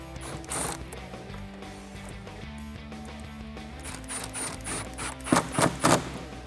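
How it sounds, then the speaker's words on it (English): A ratchet with an 8mm socket tightens an intake clamp on a 2018-2019 Mustang GT cold air intake, giving steady mechanical clicking that ends in a few louder, sharper ratchet bursts near the close, with no talk. "grab your 8mm socket and tighten this one down"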